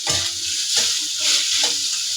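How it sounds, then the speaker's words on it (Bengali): Onion, chili and ginger fry in hot oil with a steady, loud, close sizzle, broken by a few soft thumps and scrapes of stirring. "আগে আমি পেঁয়াজ মরিচটা বেশ কিছুক্ষণ তেলের ভিতরে আদা ভাজা করে নেব"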